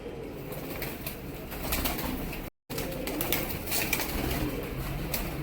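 Punjabi-breed pigeons coo softly in the background with occasional wing flutters, a brief dropout cutting the sound midway.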